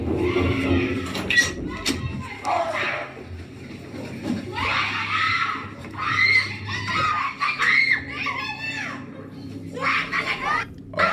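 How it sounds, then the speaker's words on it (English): Frightening screams ring out from a neighboring apartment at night, loud high-pitched shrieks in repeated bursts over a steady room background, mixed with squeals and cries that sound like a voice. "frightening screams broke the peace in the neighborhood"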